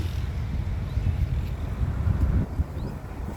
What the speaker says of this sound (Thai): โอ้ลมเย็นมาแล้ว